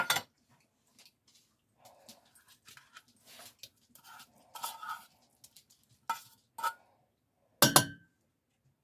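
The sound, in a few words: stirring tuna into soup mixture for casserole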